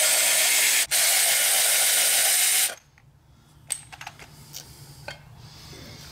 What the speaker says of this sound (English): we can remove the two lower bolts on the transmission cover